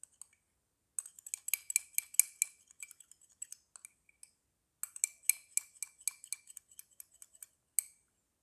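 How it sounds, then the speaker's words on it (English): A spoon clinks and taps against a bowl while skin-remedy ingredients are mixed, quick bright bursts of metallic ticks in two runs with short pauses, close and crisp with no talk. "And mix the ingredients."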